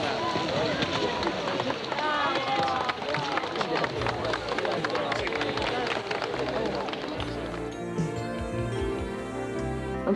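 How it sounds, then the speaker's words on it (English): Loud crowd near an erupting Greek volcano, a dense roar of voices, applause and rhythmic chanting close by, easing off toward the end with a few individual voices standing out. "you can hear loud voices applauding and chanting for what is happening"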